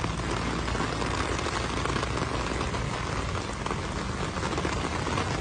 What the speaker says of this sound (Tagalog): bumuhos na naman yung napakalakas na ulan dito